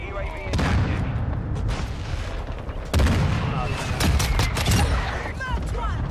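Gunfire in Call of Duty MW2 multiplayer, dense overlapping shots and booms, loud and near, with sharper bursts after the midpoint and a voice talking underneath.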